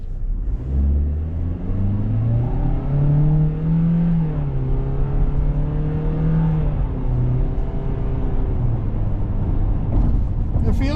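A 2025 Toyota Corolla SE Hatchback accelerates in Sport mode, its engine note climbing and shifting in a steady, close cabin drone while a voice speaks over it.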